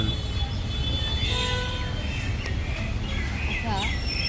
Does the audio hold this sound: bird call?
yes